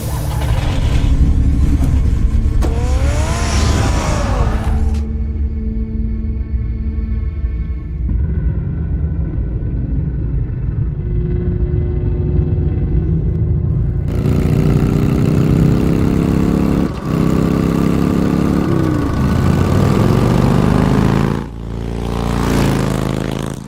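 A car engine in Batman: The Telltale Series revs and drives, loud and close, with rising pitch sweeps, a quieter idling stretch, then renewed acceleration and a final surge, with no talk.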